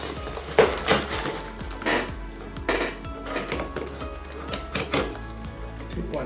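A blunt knife scrapes and saws through packaging on an unboxing of a vintage 1951 Hamilton Dunham watch, giving close, irregular clicks, rustles and tearing scratches in bursts over about six seconds.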